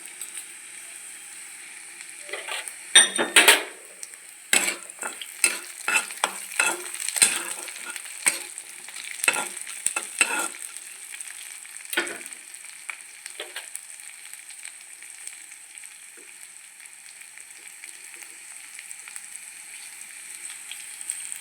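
Curry leaves frying in a pan for idli upma: quiet oil sizzle under a burst of scraping, clattering stirring strokes in the first half, then settling to a faint steady hiss.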